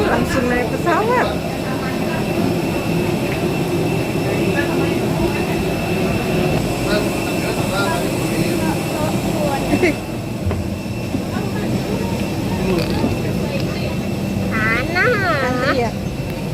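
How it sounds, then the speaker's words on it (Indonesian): Aircraft jet engine at an airport during holiday travel, a steady loud whine and roar throughout, with people talking and children's voices over it. "Tuh, pesawatnya."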